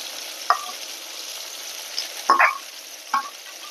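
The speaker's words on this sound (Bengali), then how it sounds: "ঝিঙে ভাজাটা হয়ে গেছে, আমি এখন পোস্তটা দিয়ে দেব" Ridge gourd fries in a pan as mustard-poppy seed paste goes in, a soft continuous sizzle punctuated by a handful of scraping stirs and spoon knocks, close and without talk.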